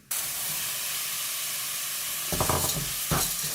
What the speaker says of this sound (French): Je vais ajouter l'oignon haché. Je vais faire revenir un petit peu.